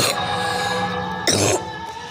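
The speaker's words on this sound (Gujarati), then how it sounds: "ઉધરસ થઈ ગઈ" A single short, sharp cough rings out close by on a rooftop during Uttarayan kite flying, over steady background noise.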